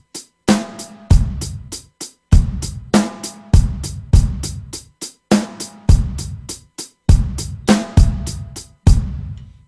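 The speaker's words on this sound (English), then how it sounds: "It's basically just 16ths on the hi-hat, snare drum on the usual 2 and 4 backbeat." Drum kit groove played slowly for a song, with a punchy bass drum, snare hits on the 2 and 4 backbeat, and a steady sixteenth-note hi-hat pattern, close and loud with no talking.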